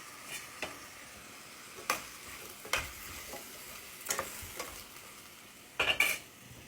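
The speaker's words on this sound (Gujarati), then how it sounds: "નાખી દેવાના બટાકા, પછી નાખી દેવાની ટામેટા," Potatoes and tomatoes cook in a frying pan for a Gujarati potato curry, with a low sizzle broken by several sharp, well-spaced clacks and scrapes of a spoon, a quick cluster near the end.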